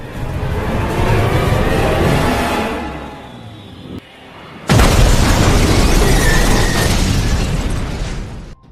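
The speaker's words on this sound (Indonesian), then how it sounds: "Dia mendorong mobil mereka hingga masuk ke jurang dan meledak." A loud roaring rush builds and fades as a car goes over a cliff in an action film, then a sudden heavy explosion bursts in and its blast rumbles on for several seconds.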